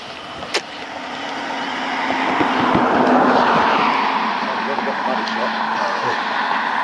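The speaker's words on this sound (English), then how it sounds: "I wouldn't be surprised if that's one of the armed response type vehicles" An armed response police vehicle drives past on a road near Lydd. The engine and tyre roar swells gradually, peaks midway, then lingers as it moves off.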